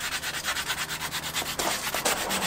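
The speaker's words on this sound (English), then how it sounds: "I'm sanding this perspex that's going here" Steady back-and-forth sanding on a hard perspex sheet, a dense rhythmic rasp close by, with a few sharper scrapes near the end.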